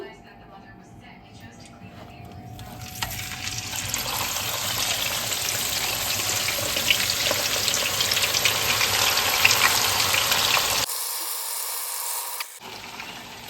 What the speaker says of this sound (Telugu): సో ఇప్పుడు మనం ఆనియన్స్ వేపుకుందాం.